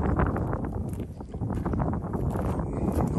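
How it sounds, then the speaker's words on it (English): Loud, continuous wind buffeting a microphone outdoors at a sawmill assembly site, a dense low rumble that surges and dips throughout without a break. "I don't know if you can hear me with this wind"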